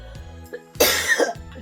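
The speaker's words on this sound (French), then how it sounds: "Je vais tousser un bon coup" A woman gives one sharp, close cough, a short harsh burst after a few faint throat sounds, with no talking.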